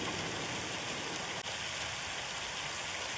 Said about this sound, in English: Rain, rain. What's the weather forecast today then?